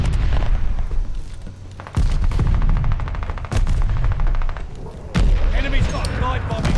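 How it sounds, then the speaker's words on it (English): Artillery shells burst in a video game battle, a rapid stream of sharp gunfire and booming explosions, with several heavy blasts landing close and loud across the span, under occasional voice chatter. "Watch your heads. Shells falling."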